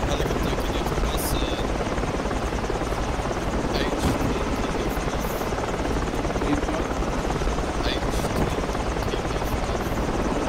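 Helicopter in a video game, a steady loud rotor drone that holds for the whole stretch with constant engine whine, with voices faintly talking over it.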